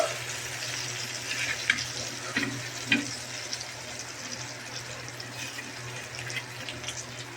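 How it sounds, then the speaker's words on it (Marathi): Tap water running at a kitchen sink while hands are washed during pomfret frying, a moderate steady splash with a few louder spatters and a faint low hum underneath. "तर म्हणून मी हात धुवून घेते."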